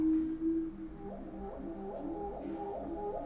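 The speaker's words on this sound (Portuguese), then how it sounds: "Dilofossauro." Reconstructed Dilophosaurus dinosaur call: a series of low, warbling, whale-like moaning tones with an echoing quality, sustained and fairly loud across the whole stretch with no voices.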